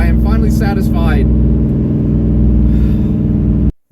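BMW E46 with a swapped S62 V8 engine running, a loud, deep, steady idle rumble close by, with a person talking over it at first before the sound cuts off abruptly.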